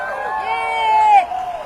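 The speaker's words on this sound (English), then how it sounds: "give it a big cheer" A crowd at a street rally cheers and whoops in a loud swelling roar that peaks briefly and then eases off.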